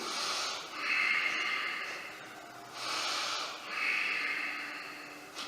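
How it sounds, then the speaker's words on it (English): Slow, deep breathing while holding a yoga pose for veterans and seniors, with about four long airy inhales and exhales in an even rhythm, close to the microphone and fairly soft. "I'm just holding here and doing my deep breathing."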